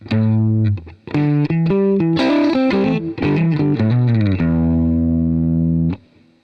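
Loud, overdriven electric guitar runs through a lilting, swung melodic line from a song's intro, ending on a long sustained note that rings before cutting off.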